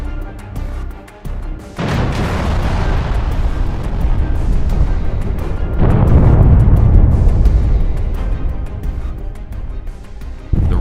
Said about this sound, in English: They deployed a Su-34 aircraft equipped with heavy glide bombs FAB-250 and began bombing the border checkpoint on their territory.